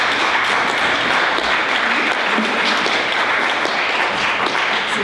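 Loud, dense applause from an audience at a Swiss roundtable discussion on art and politics, a continuous even wash of clapping filling the whole stretch with no talk.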